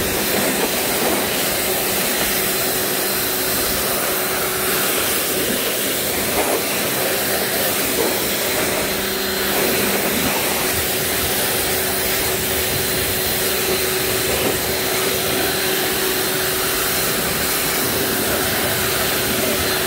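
A pressure washer sprays a vehicle during detailing, producing a loud, unbroken hiss with a steady pump hum underneath that holds from start to finish, with no talking.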